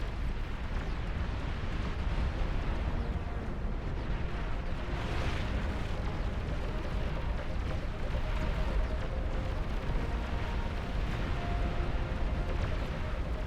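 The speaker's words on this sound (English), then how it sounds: "That's like a continuous barrage of Starfall fire." A continuous, dense roar of Starfall artillery fire in the real-time strategy game Beyond All Reason, with overlapping distant blasts and booms forming an unbroken barrage.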